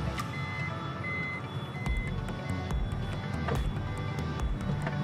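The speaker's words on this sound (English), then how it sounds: "the sliding door closed by itself." A Toyota Sienta's automatic sliding door closes, with a steady series of repeated electronic warning beeps over the rumble of the moving door mechanism, heard close up without talking.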